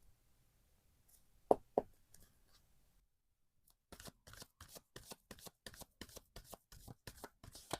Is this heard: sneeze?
no